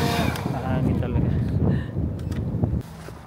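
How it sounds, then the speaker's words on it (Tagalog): Strong winter wind roars and buffets outdoors in Canada, a dense rushing noise battering close against the microphone, with brief voices under it. "Mahangin talaga."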